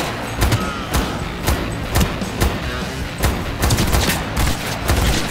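Heavy-recoil weapon fire in Cyberpunk 2077, loud rapid shots cracking in a steady, slightly uneven rhythm throughout, close and dense with booming impacts between them.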